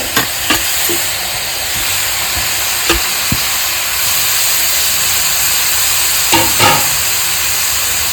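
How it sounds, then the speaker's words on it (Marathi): Grated carrots sauté in ghee for carrot halwa, a loud steady hiss and sizzle broken by scattered clicks and scrapes of a spoon stirring the pan, with no talking. "आता या तुपातच आपल्याला गाजरासाठी चांगला परतून परतून घ्यायचा आहे"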